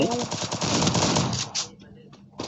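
Rapid gunfire in a video game while shooting at an enemy, a dense burst of shots that thins into scattered pops.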